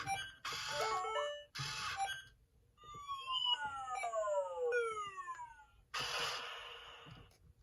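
Electronic chirps and synthetic warbles from a Sega Toys iDog robot dog toy, with bursts of noisy static and sliding beeps, close by and fairly quiet.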